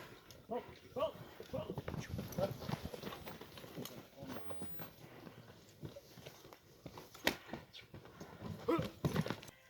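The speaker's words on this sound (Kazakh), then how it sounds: "аттардын кетип атканын көрүп атасыздар." Irregular clip-clop of hooves on hard ground, several horses moving nearby, with people talking over the footsteps and a dog barking briefly.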